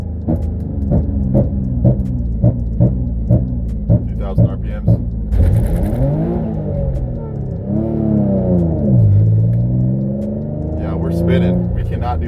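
An Infiniti G35 Coupe with a six-speed manual launches hard, its engine chugging rhythmically then revving up loudly and surging, with the rear tires spinning; the roar rises and falls close by and dominates throughout.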